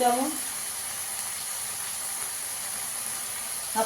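Garlic and ginger fry in hot oil with a steady, even sizzling hiss that continues throughout, with a voice briefly heard at the start and end.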